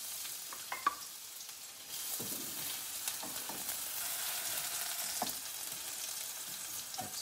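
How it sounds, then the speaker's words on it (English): Beef and broccoli sizzles steadily in hot oil, a soft crackling hiss that swells after a couple of seconds, with a few light clinks. "It's gonna sizzle right away."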